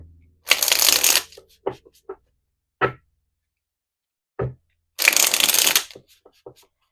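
Two brisk riffle-shuffles of cards, each about half a second, with soft taps and card handling between them in a quiet room.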